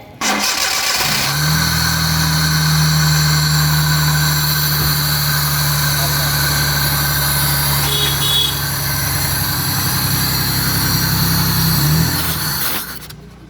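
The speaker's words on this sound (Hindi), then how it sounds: "अभी गाड़ी स्टार्ट करेंगे तब दिखाते हैं आपको" Car engine, suffering from low RPM and weak pickup, cranks and catches just after the throttle body has been cleaned, then holds a steady, close idle for about ten seconds before cutting out near the end; no one talks.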